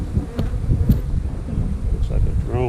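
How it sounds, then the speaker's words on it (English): Honeybees, including large drones, buzz around an open hive during a hive inspection, a dense close insect drone mixed with wind rumble and passing individual bees. "Looks like a drone. It's a big bee."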